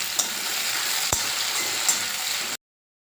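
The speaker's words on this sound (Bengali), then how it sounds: "এবার দিয়ে দেবো টমেটো কুচি" Chopped tomato fries with browned onion in a pan of hot oil, producing a continuous close sizzle broken by a few brief clinks of stirring, no one talking.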